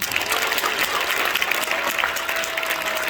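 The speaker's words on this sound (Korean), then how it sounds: "이분들에게 박수 한번 보내주십시오." Audience applause at the launch event of a Korean news alliance, a thick, steady roar of many hands clapping with crowd murmur underneath, lasting the whole stretch.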